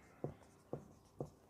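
Three soft, evenly spaced taps of chalk or marker on a board during a vector maths lesson, faint and close against a quiet background.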